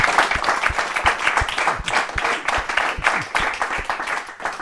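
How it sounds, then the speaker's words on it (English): A live-recording audience applauds steadily, dense clapping with a few louder claps near the front, sustained without pause throughout. "can you all give a round of applause, including wherever you're sitting, for Matt and"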